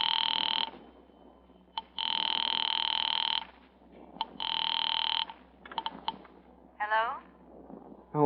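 An old house telephone rings in three long electronic bursts separated by pauses, fairly close and clear, with faint voices and brief noises between the rings.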